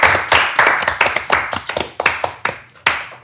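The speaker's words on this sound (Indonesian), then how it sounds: "Boleh tepuk tangan untuk berita yang pertama ini" A small group claps together for a news item during a panel debate, with about a dozen sharp, close bursts of applause coming in quick uneven waves.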